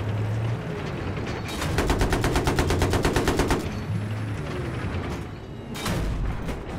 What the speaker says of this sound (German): Die schießen zwar alle fröhlich